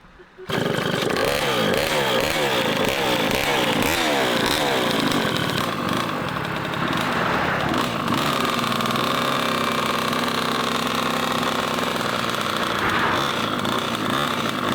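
A small two-stroke moped engine starts up and runs loudly, revving unevenly at first before settling into a steady, buzzing drone.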